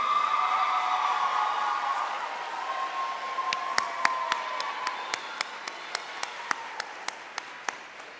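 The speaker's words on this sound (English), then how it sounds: "give your family and friends a round of applause for their support" A graduating class at a 2022 commencement applauds its families and friends, a broad wash of crowd clapping that fades into scattered individual claps, sharp and spaced, near the end.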